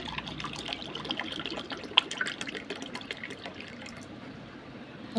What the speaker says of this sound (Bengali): জল নিয়ে নিব